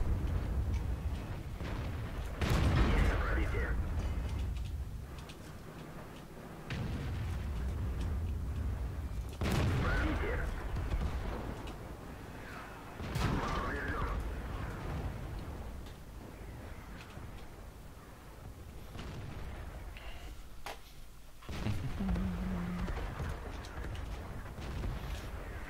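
Tank cannon shots in World of Tanks boom out as several heavy, sharp blasts spaced a few seconds apart, each followed by a rumbling tail, with quieter game noise in between.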